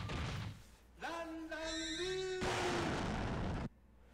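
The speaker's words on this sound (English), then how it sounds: "Always ends with the bomb explosion." A bomb goes off in a Mugen fighting game, a loud, broad noisy blast that holds for about a second and then cuts off abruptly, following rising tonal game effects.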